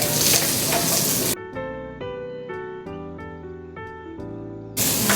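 Garlic sautés in a pan, giving a loud, bright sizzle at the start. Music cuts in for several seconds, and the frying hiss returns at the end.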